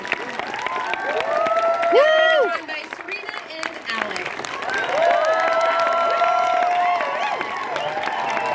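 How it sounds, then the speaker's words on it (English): Audience applause and cheering at the Toronto premiere of the film Code 8 Part 2, loud and sustained crowd noise with an announcer talking over it throughout. "Big round of applause."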